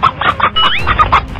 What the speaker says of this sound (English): This is Emma's rooster.